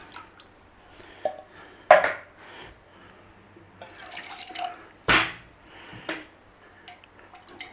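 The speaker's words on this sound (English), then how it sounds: "Now, common sense, swill out your cans. Get all that soup out of there." Water swilled around inside an empty Heinz tomato soup can, heard as a few sloshing splashes and sharp metallic clunks between quiet gaps, close and without speech.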